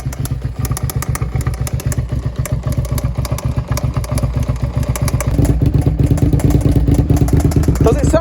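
A first-generation carbureted Suzuki SV650 V-twin idles close by with a steady, lumpy rhythm and a fast, intermittent mechanical tapping from the top end; the engine note thickens slightly toward the end.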